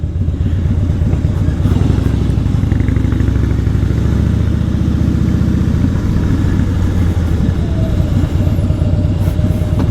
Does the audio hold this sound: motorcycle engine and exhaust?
yes